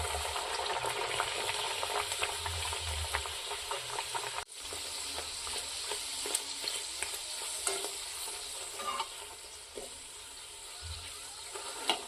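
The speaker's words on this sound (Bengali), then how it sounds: "এইভাবে আমি সব কচুরিগুলো ভেজে নেব।" Large Dhaka-style kachoris deep-fry in hot oil with a loud, continuous sizzle and bubbling, broken by occasional stirring and splashing, close up and without talk.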